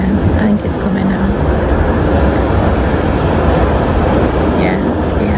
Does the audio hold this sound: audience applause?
no